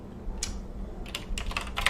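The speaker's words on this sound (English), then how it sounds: "Let me go ahead and just type that in my channel while I'm saying it." Typing on a computer keyboard in bursts of quick, close key clicks, a short cluster early then a denser run of taps toward the end, with no voices.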